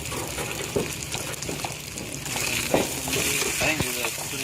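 Sausages and buns sizzling and crackling on an outdoor grill during a Fourth of July gathering, a steady close frying hiss with occasional scraping as food is flipped, and voices chatting nearby.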